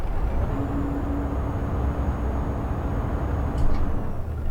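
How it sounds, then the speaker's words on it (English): A truck engine revs under the accelerator in Euro Truck Simulator 2 with the EAA map, a steady low rumbling drone that holds at an even level, with a faint hiss near the end and no talking. "I'm hitting that accelerator now."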